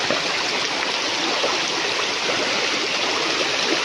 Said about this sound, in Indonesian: Ini penyeberangan sungai yang kelima.